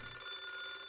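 A telephone bell rings in a video game, a bright continuous electronic trill that fills the short moment loud and alone.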